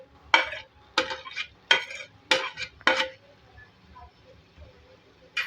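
Spices and fried potatoes stirred in a karahi, five distinct metal scrapes and clinks of a ladle against the pan in a steady rhythm, close and clear, then quieter faint stirring.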